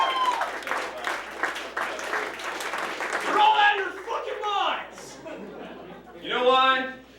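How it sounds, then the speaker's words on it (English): Crowd applause at a comedy club stand-up show, a dense patter of clapping that swells and fades across the clip, mixed with scattered chuckles and a performer's voice talking over it. "Round of applause."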